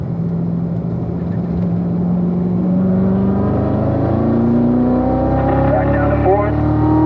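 A race car engine drones loud and close on a track, its pitch climbing steadily as it accelerates through the gears, with a voice speaking over the engine noise.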